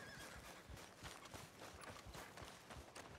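A horse whinnies over the rhythmic clip-clop of hooves in Red Dead Redemption 2, steady and close, with no talking.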